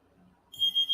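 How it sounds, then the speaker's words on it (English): An alarm starts abruptly halfway through, a shrill electronic beeping tone pulsing in quick repeated bursts after near silence. "The alarm's going to go off for, I think it's 3 minutes."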